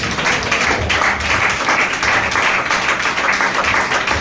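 A church congregation clapping their hands in praise of God, dense, steady applause from many people, loud and close throughout with no clear talk.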